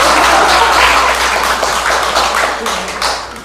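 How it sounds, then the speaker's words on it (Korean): A church congregation at a Sunday service applauds with steady, dense clapping that holds for several seconds at a fairly loud, close level. "박수 좀"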